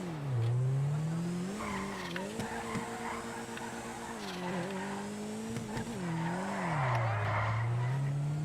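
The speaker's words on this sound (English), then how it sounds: "what I'm doing right now, power sliding is a different thing than drifting" A car power-slides in Grand Theft Auto V, its engine droning and shifting pitch while tires squeal and skid steadily through the whole stretch, loud and close, with no talk over it.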